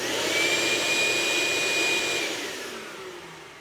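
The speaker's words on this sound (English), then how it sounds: "So let's try the shop vac first." A 3 horsepower shop vac whirs loudly with a steady high whine that holds for a couple of seconds, then spins down and fades as it is switched off, close by with no talk.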